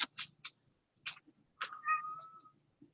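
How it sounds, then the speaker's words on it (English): A cat in heat meows nearby in a quiet room: a few short chirping cries, then one longer drawn-out wail. "Shut up, cat."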